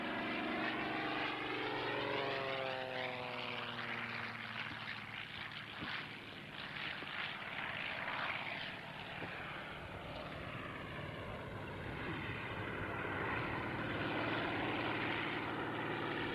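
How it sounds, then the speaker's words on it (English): A New Zealand–built Fletcher agricultural propeller plane drones past at an air show, its engine a sustained buzzing roar that shifts in pitch as it passes, fairly distant and continuous for the whole span. "Another New Zealand aircraft?"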